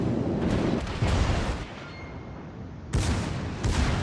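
Naval gunfire in a video game, with rounds fired at the ship Svetlana: several heavy booming shots in irregular succession, each a loud rumbling blast with a brief quieter gap between, no talk.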